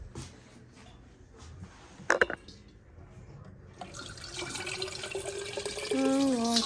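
Water is poured into a cooking pot in a home kitchen, building from scattered splashes into a louder, steady close pour near the end, with some knocks of the pot beforehand.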